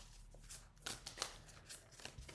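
Soft, quiet riffling and papery flicks of tarot cards being shuffled, in a few quick bursts against a low background hum.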